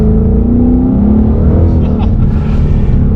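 A Ford Mustang GT with a 5.0 V8 engine roars loud and close as it downshifts from third to second gear, the revs climbing in a throaty surge past 3,500 rpm while a voice talks over it.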